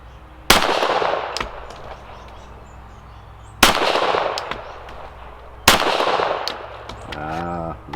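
Three loud, sharp pistol shots from a Glock 41 in .45 ACP ring out about three seconds apart, each with a ringing outdoor decay. A faint short electronic tone sounds near the end.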